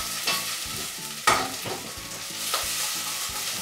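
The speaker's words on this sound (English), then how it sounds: "So give that a little stir, just kind of wait till the garlic sort of browns up a little bit." Garlic and torn basil sizzle and fry in a pan, a steady crackling hiss broken by a few scraping stirs, close and clear with no voices.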